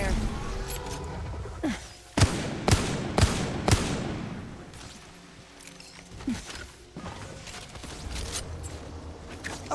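Gunfire in the video game Apex Legends: a burst of four or five sharp, loud shots in quick succession, with scattered impacts and mechanical game sounds around them and a voice speaking briefly.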